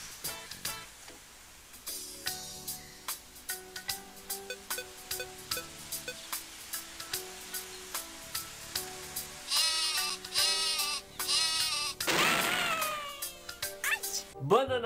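Sheep weapon in the Worms game, repeated bleats and cartoon baa calls in a regular pulsing rhythm over game music, ending in a louder run of sheep cries and a final burst.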